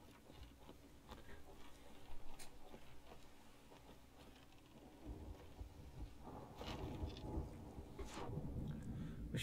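A thunderstorm in the pirate video game Sea of Thieves brings faint rolling thunder with scattered cracks and pattering rain that builds louder toward the end.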